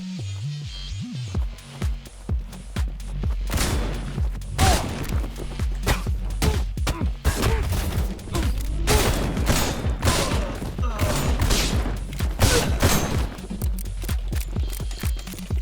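Rapid video game gunfire from a John Wick-style shooter, with sharp bursts of shots and clattering mechanical clicks in quick irregular succession, fairly close and punchy without talk.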